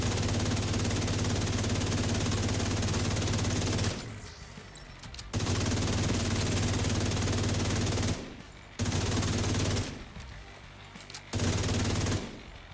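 Video game gunfire as hostiles are shot in Rise Up Scout, loud sustained automatic bursts broken by short pauses, with no talking.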